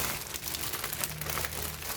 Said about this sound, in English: just fold the plastic bag